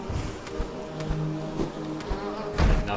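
A giant bee in Hollow Knight buzzes with a steady droning hum, moderately loud and close, broken by soft thuds and game effects.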